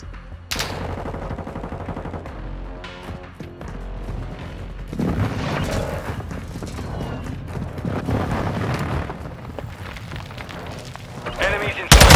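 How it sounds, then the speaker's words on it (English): A friendly airstrike in a video game shooter booms into a broad rumble partway through, amid steady bursts of automatic gunfire, with voices talking over the battle. "Friendly airstrike in the AO."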